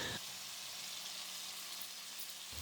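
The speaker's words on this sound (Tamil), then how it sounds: "நறுக்கி வச்ச கத்திரிக்காய் கொஞ்சம் உப்பு சேர்த்து நல்லா வதக்கி எடுத்துக்கலாம்" Soft, continuous sizzling of chopped, salted eggplant frying in hot oil, faint and close, with a brief stir or clink at the start and end.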